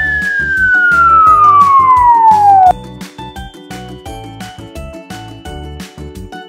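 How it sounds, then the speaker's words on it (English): A loud wailing ambulance siren sweeping downward in pitch, then cutting off as a bouncy musical backing carries on. "An ambulance take patient to nearby hospitals."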